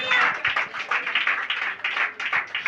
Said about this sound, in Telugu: చప్పట్లు కొట్టండి మరి.